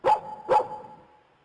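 A poodle in a cartoon barks twice in quick succession, each bark sharp and close, with a short fading tail and no talking.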